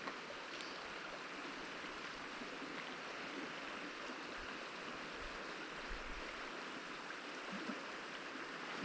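A creek flows steadily in the bush, a broad, even rush of water heard nearby and unbroken, with no voices over it.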